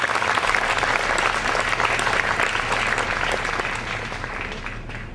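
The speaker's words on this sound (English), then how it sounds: "if you could give them a round of applause in their absence, that would be lovely" Conference attendees at the 2011 Children's Literature Association Conference give a warm, full round of clapping that holds steady, then gradually tapers off toward the end.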